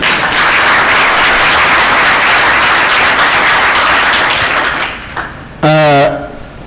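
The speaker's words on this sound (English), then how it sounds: "So a big round of applause." A conference audience at a closing session bursts into a loud, sustained round of applause that fills about five seconds, fades out, and then a single voice speaks briefly at the end.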